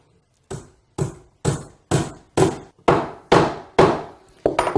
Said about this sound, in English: take the dowel, put it in a hole, and drive it in with my hammer